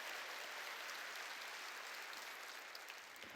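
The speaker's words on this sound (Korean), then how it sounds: "박수로 하나님께 영광 돌려." Church congregation applauding together during a sermon, a steady dense wash of clapping that fills the hall throughout with no gaps.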